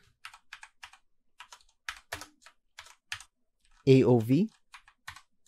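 Crisp keyboard typing taps out in short irregular bursts, close and dry against near silence, with a brief spoken word cutting in partway through.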